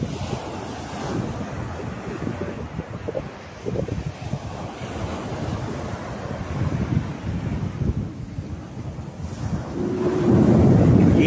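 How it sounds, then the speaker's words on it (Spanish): Sea waves break on a beach in Mexico, heard as a continuous low surf rumble with wind buffeting the microphone, growing louder as a wave rushes in near the end. No one talks. "No hay como estar en la tranquilidad del mar y escuchar sus olas."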